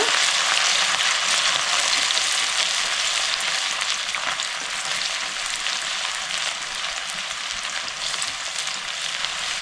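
Garlic and ginger stir-fried in oil over a high flame for chilli chicken give a loud, steady, close sizzle that hisses without pause, with no voices.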